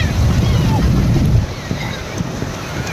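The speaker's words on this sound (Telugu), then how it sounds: "చూడొచ్చు అలలు అలలు అలలు ఏ విధంగా అలలు వస్తున్నాయి" Sea waves roll in at Antarvedi beach during a crowded Sankranti outing, a loud rushing surge with wind buffeting the microphone that eases after a moment into a lighter wash, with voices faintly underneath.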